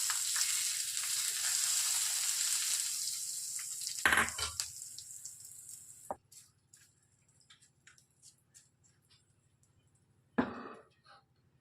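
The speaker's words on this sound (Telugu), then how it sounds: "ఇప్పుడు ఈ పోపును మనం ఈ పచ్చడిలోనికి వేసేసుకుందాము" A loud burst of sizzling as hot tempering hits fenugreek leaf and tomato chutney fades out over a few seconds, followed by a couple of faint clinks and quiet crackles.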